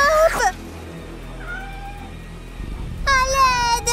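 A cat meows loudly and close in a short rising call, then a softer tonal cry follows mid-clip before a longer, strained meow closes out, all over a steady low mechanical hum like a running vacuum cleaner.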